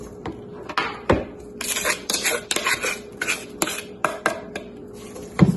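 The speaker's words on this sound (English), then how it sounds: "So we're just going to saute the apple." Apple pieces cooking in melted butter in a pan, with a utensil scraping and clinking against the pan in irregular bursts, moderately close and quiet, no talking.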